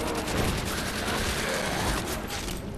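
Thompson submachine gun in a custom zombies video game map firing in a dense, continuous burst, loud and close, with game noise layered over it throughout.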